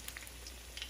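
Vegetables sizzle in a frying pan as a shishito pepper is dropped in among them. The frying is a soft, steady hiss with a few brighter crackles, close by and quiet, with no talking.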